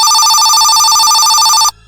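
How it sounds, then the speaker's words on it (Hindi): A telephone in a Mr Meat 3 cartoon rings loudly with a steady electronic trill, then cuts off abruptly. "अरे फोन किसका आ रहा है तुम्हारे घर पे?"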